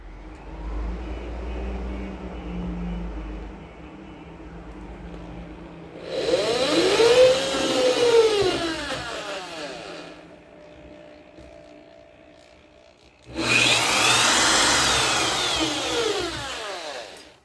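Power drill boring holes in metal for a homemade TV antenna: two loud, close whining bursts, the first lasting about four seconds and the second about three, separated by a quieter gap with faint background hum.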